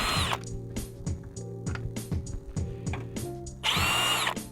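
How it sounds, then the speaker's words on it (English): A power tool drives out 10mm headlight bolts on a 2014-2019 Chevy Silverado 1500, whirring in repeated short bursts with ratcheting clicks between them and one louder, longer burst near the end. "To remove the headlight, go ahead and remove the 4 bolts. They're all 10mm."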